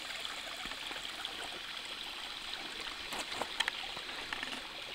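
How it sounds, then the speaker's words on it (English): A small brook at a trail crossing in Maine's Camden Hills, edged with frozen sticks and icicles, flows in a steady, soft trickle with a few faint splashes, close and alone. "A little brook crossing."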